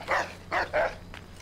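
A dog in the Assassin's Creed video game barks three times, the last two close together, followed by a faint fourth yip, fairly near and clear against a quiet background.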